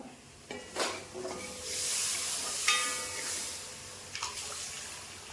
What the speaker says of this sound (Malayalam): നമുക്ക് ആവശ്യത്തിന് വെള്ളവും ഒഴിച്ചു കൊടുക്കാം